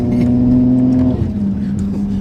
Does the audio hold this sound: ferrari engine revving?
yes